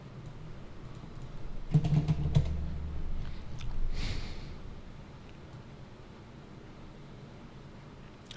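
A computer keyboard is typed on briefly, a short, faint cluster of key clicks over a steady background hiss, followed by a soft rustle and then near silence.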